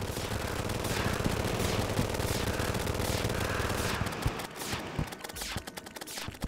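Rapid rifle fire from the Candy Corn Rifle in the game Terraria rattles in dense, continuous bursts, loud and close, thinning into scattered separate shots near the end, with no speech.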